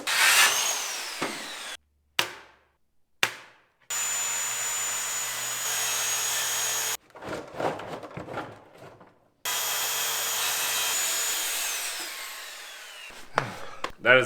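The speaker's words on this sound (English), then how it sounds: "Just started cutting part of my table. Piece of plywood" A power saw cuts through a 3/4-inch plywood sheet for a table in a truck camper build, in loud, sustained bursts of buzzing with short pauses and handling noises between cuts.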